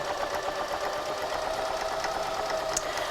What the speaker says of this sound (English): pop it under your machine and do your 1/4 inch seam allowance all the way along